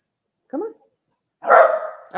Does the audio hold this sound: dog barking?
yes